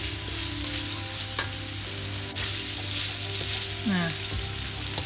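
A curry spice paste for goat curry fries in oil with a steady, close sizzle and occasional stirring, while a voice briefly speaks a single word.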